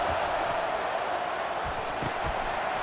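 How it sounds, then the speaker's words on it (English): A stadium crowd in an EA college football video game roars as a dense, continuous wall of noise throughout, loud and steady with faint thumps underneath. "It is getting loud as this crowd tries to help its defense."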